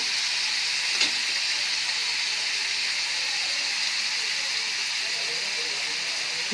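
Prawns fry lightly in hot oil with a loud, continuous hissing sizzle that holds steady throughout, with one faint clink near the start.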